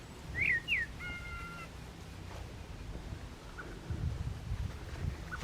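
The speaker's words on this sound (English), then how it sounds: "I'm just listening to the bird song" Birds call in a morning orchard: a couple of quick, bright chirps and a short whistled phrase open the scene, then fainter calls sit over quiet, steady outdoor ambience.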